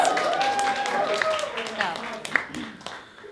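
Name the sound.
audience applause for band Trīsas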